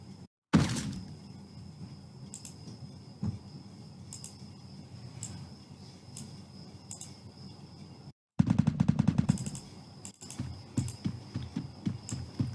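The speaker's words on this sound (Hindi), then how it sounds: "पीछे से भी फायरिंग की जो आवाज़ें आ रही थी" Gunfire in a video game fires a sharp burst at the start, then faint background rattle, and later a loud stretch of rapid automatic shots followed by scattered single cracks.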